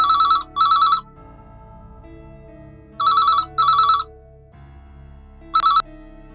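A telephone rings in loud double bursts, pausing between pairs, then rings once more, over quiet background music.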